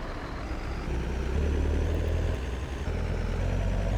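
A tractor's engine drones steadily while it reverses to park a trailer in Farming Simulator 22, a continuous low idling rumble with slight swells in revs, close and alone with no talk.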